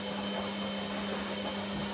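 Food processor fitted with a slicer blade chopping butter for an apple and raspberry crumble, a steady continuous motor whine with a constant hum, running alone without pause.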